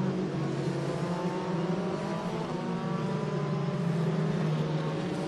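A Formula 3 race car on a damp Spa circuit gets going again, its engine a steady high tonal whine with rising and falling gear-pitch sweeps, moderately distant and continuous.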